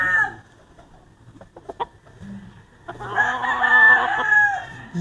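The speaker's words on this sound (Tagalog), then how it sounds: "Pakitaan ko lang kayo ng bulik ni Sir B-Boy Enriquez oh." A bulik gamecock rooster crows once nearby, loud and drawn out, after a few soft clucks and short sounds in a farm setting.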